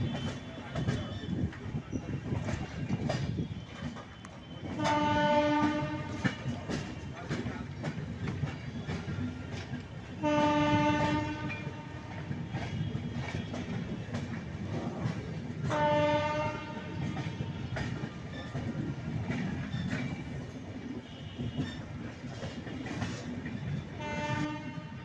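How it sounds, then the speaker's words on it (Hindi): The Danapur–Jaynagar intercity express rumbles and clatters into a station at night, sounding its horn in three separate blasts roughly five seconds apart over continuous wheel noise. "ट्रेन ठीक 6:05 में अपना अराइवल ले रही है"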